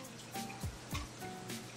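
Tap water runs and splashes as hands are washed at a sink, with a few soft splashing surges over a quiet, steady trickle.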